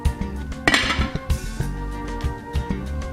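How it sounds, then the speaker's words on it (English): A spoon stirs charro beans with Rotel tomatoes in a slow cooker, scraping and clinking against the crock, and the lid is then set on with a sharp clack, close up and without speech. "We're going to get this stirred up. And we're going to get the lid put on."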